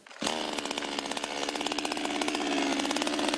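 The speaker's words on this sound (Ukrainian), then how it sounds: "Командир екіпажу тимчасово орудує пилкою." A tank crew commander runs a chainsaw at a wartime front-line position. It snarls to life abruptly, then holds a close, loud buzzing engine drone with a slight rise in pitch, and no one speaks.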